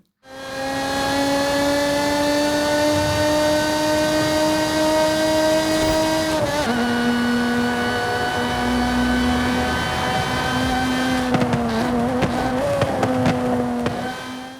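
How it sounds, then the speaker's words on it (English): The supercharged V6 of a Lotus Exige in Forza Horizon 5 drones in a loud, steady cruise, shifts briefly partway through, then rises and falls through quick gear changes near the end, with no talking. "I leave you alone with the beautiful sound of the supercharged V6 engine."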